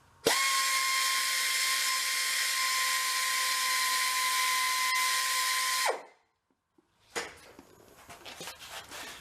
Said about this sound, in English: And grind a little more off.